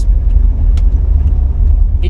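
A 1980s diesel Mercedes luxury car rolls along with a steady low engine rumble and road noise from inside the cabin, continuous and loud, with a few faint clicks over it.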